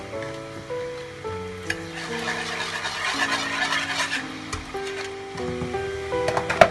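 Pure ghee and Vanaspati ghee melt in a pan, giving a soft, steady sizzle and crackle under background music, with no talk.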